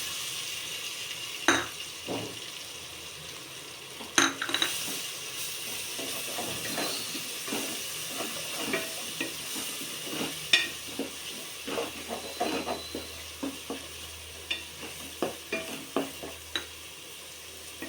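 A paste of onion, coriander and cumin cooks in oil, sizzling steadily while a utensil scrapes and stirs the pan in irregular clacks over nearly eighteen seconds.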